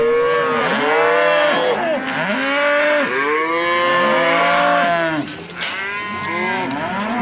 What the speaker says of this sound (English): Cows have sounds that they make